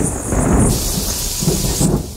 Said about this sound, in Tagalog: Isang kidlat ang tumama kay Muri.